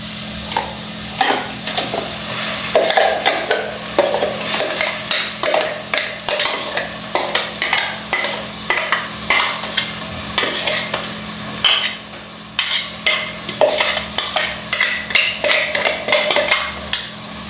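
Masala and onions are stirred and fried in a pan for Goan pork sorpotel, with a constant sizzle and repeated rhythmic scrapes and knocks of a spoon against the pan, close and clear.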